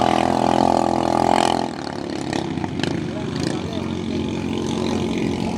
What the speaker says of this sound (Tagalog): Hindi pa sinasagad ang makina